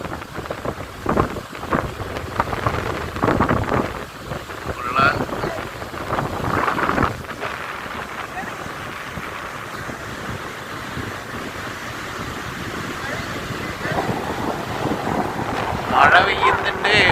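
Gusty evening wind roars steadily into the microphone on Mattool beach as darkness and clouds gather, loud and continuous, with waves washing behind it and brief voices near the end.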